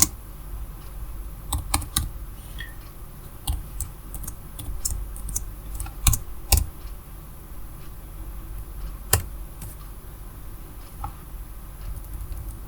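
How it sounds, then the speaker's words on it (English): Uneven bursts of keystrokes on a computer keyboard during Python coding, close and clicky, with pauses between flurries over a faint steady hum. "let's try typing it out again."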